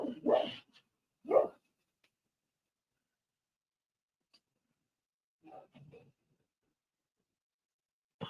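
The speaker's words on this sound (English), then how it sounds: "that sure didn't sound like the neighbor's dog" At night a dog barks outside, two sharp barks close together and then a softer, broken bark after a long quiet gap, with faint rustling in between.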